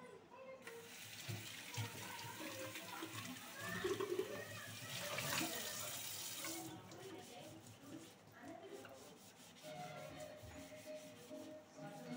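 Tap water runs steadily with rubbing and scrubbing as a water purifier part is washed and cleaned, the sound fairly close and continuous, with speech mixed in.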